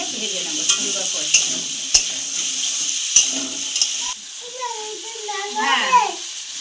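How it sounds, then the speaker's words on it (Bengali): Sliced papaya sizzling in hot oil with salt and turmeric, stirred with sharp utensil scrapes and clicks against the pan while someone talks over the steady frying hiss. "এবার আমি লবণ আর হলুদ দিয়ে এটাকে ভেজে নেব সুন্দর করে।"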